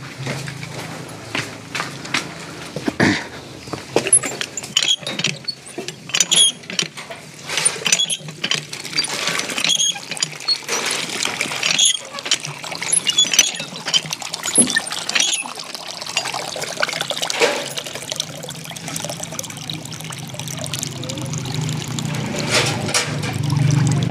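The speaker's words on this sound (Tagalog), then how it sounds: "Palitan natin yung tubig dito." Water poured into a household container to replace the old water, a steady splashing and trickling stream running for over twenty seconds with no talking.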